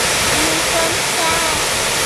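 Water in a mountain stream rushes in a loud, steady broadband roar, close and continuous, with no gaps.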